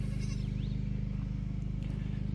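Goats bleat in short, repeated calls over a steady low rumble, fairly close, with no talking.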